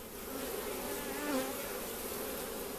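Honey bees buzz steadily around an open beehive during an inspection, a close, continuous droning hum with a slight swell midway and no talking.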